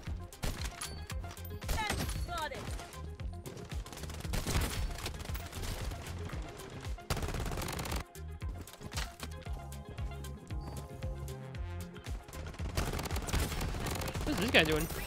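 Rapid bursts of automatic gunfire from a gun in the shooter game Bloodstrike crackle almost nonstop, mixed with other game effects and a player talking over it.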